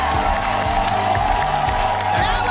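A TV show studio audience cheers and applauds as a band's performance ends, a constant crowd roar with whoops blended over loud music for the full few seconds.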